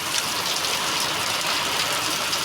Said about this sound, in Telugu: ఫుల్ వర్షం పడుతుంది అన్నమాట